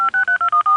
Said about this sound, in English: Margaret, can you get Ed Walsh on the phone for me?